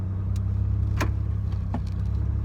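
A Ford Territory with a 2.7L V6 turbo diesel and its muffler deleted drones steadily while driving, a constant low rumble running throughout with a couple of brief higher whines or clicks over it.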